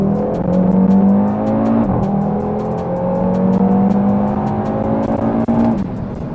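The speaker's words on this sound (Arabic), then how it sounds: "فعلاً أودي قمتوا بعمل رائع مع الصوت اللي عم بيطلع من هذا المحرك، وطبعاً لأنه 5 سلندر عم بيعطينا صوت مميز جداً" A 2018 Audi TT RS five-cylinder engine drones loud and steady, its pitch climbing and dropping twice as the car revs under acceleration, alone with no talk.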